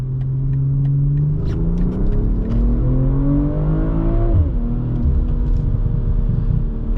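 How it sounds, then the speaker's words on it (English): A 2024 BMW M340i xDrive with its B58 engine in Sport mode pulls hard through a rising rev, its tone climbing steadily, then drops on a shift and settles into a lower, steady drone, heard loud from inside the cabin. "switch it over to Sport, because hear the engine get louder"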